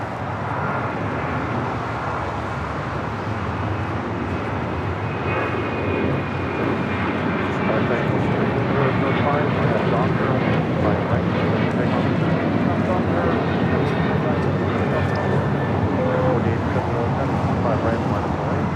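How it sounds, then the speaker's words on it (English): An Alaska Airlines Boeing 737-900ER takes off at an airport with a sustained, building jet engine roar that grows louder midway and stays strong, while people talk intermittently over it. "This is Alaska Airlines 1442 taking off to Zihuatanejo on a 737-900ER"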